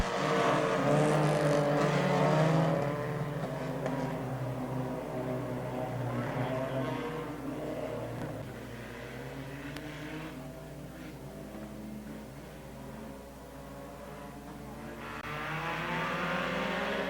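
Race cars roar around Port Royal Speedway, engine noise swelling and fading as the cars pass, loud at first and again at the end, with no voices in the clip.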